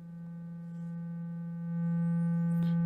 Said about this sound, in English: So let's run an oscillator, like a sine wave, into the second guy.